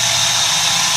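A Visuo Siluroid drone's motors run with a steady, loud high-pitched whir and hiss that holds evenly throughout, with no speech over it.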